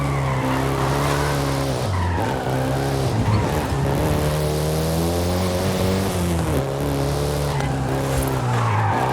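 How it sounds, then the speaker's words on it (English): A Volkswagen Golf GTI in Forza Horizon 5, its engine droning steadily and rising and falling in pitch with tire skids over it, loud and continuous throughout. "including the Golf GTI you're driving right now"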